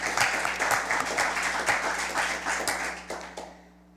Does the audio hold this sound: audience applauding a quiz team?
yes